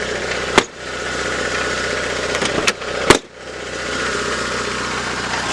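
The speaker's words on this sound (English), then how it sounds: "It's got a nice little exhaust leak, but that's no big deal." A 1999 Chevy S10 engine with an exhaust leak idles steadily up close, its rough, ticking exhaust rumble broken by a few sharp clunks.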